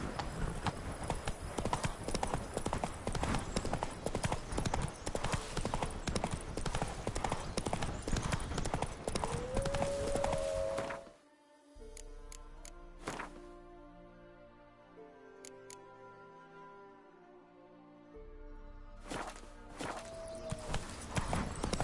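Horse hooves clip-clop steadily in The Witcher 3 as the mount walks, loud and continuous for about eleven seconds, then drop away to quiet ambience before faintly resuming near the end; a brief whinny-like tone appears mid-clip.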